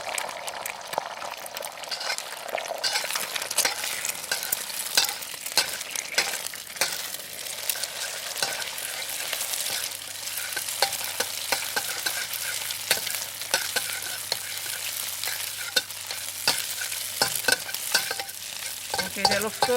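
Two eggs fry in hot oil in a pan for a crab rice noodle dish, with a steady close sizzle under frequent scraping and clicking stirs throughout.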